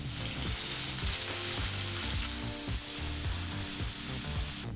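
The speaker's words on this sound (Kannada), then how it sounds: "ಫ್ಲೇಮ್ನಲ್ಲೇ ಈರುಳ್ಳಿನ ಫ್ರೈ ಮಾಡ್ಕೋಬೇಕು" Finely chopped onion with curry leaves sizzles in a pan over medium flame and is stirred during the making of a beans and green peas palya. A steady, close frying hiss runs throughout.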